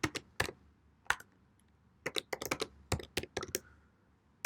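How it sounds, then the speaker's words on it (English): A computer keyboard being typed on in short bursts of crisp key clicks, close and fairly quiet, with brief pauses between the clusters of keystrokes and no talking. "Then I'm going to just type my name here."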